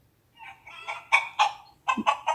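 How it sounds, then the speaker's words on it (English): A hen clucks in a short series of bright, rising calls, ending in a few quick clucks, close and clear with no other sounds. ""Can you lay eggs?" clucked a hen."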